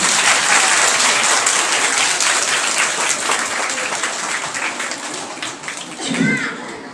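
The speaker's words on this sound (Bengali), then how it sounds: "ওনার জন্য একটা জোরে হাততালি দাও।" An audience at a girls' school event applauds loudly, a dense sustained clapping that fills the space and slowly tapers, with faint voices beneath.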